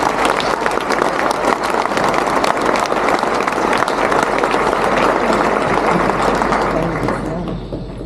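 A graduation ceremony audience gives the platform party a loud, dense round of applause. The clapping is sustained and close, then tapers off near the end.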